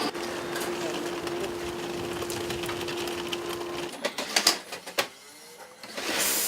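Sewing machines hum steadily in a sewing factory run for over forty years, then the whirring stops and scattered clicks and taps of handling follow, nearby and fairly loud.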